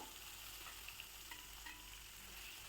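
Steady, gentle sizzling of ground spice paste frying in oil, close up, with a few faint scrapes of stirring.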